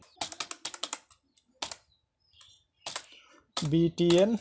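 Clicking computer keyboard keys while typing HTML and CSS code for a download button, quick light taps in bursts alternating with a man's nearby speech.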